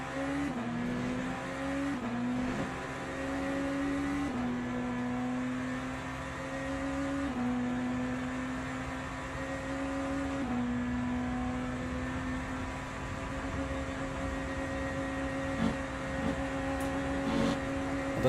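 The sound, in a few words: Ferrari race car engine in Le Mans Ultimate racing game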